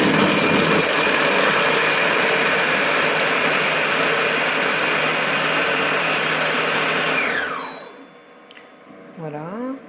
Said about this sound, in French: on va mixer tout ça 10 secondes, vitesse 6